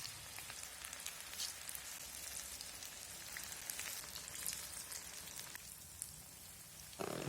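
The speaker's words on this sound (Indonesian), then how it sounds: "Kemudian kita goreng di api yang panas." Indonesian gorengan fritters fry in hot oil, giving a continuous crackling, rain-like sizzle with scattered sharper pops at a moderate, even level.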